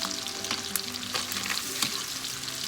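Salmon fries in butter and lemon in a pan, a loud, continuous close sizzle with occasional crackles and light stirring clicks.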